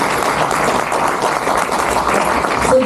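Audience applause fills the room at a panel discussion, dense and steady clapping from a large crowd, loud and continuous throughout.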